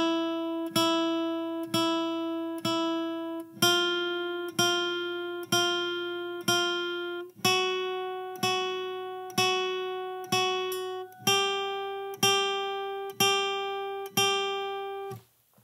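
Single guitar notes picked downward one at a time on the second string, a steady series of clear ringing plucks with shifting pitch, played alone at a moderate pace.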